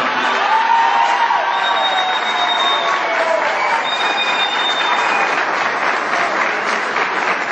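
Sustained, loud crowd applause at a political pre-campaign rally welcoming a local deputy pre-candidate, steady dense clapping throughout with a few faint whistles or cheers mixed in.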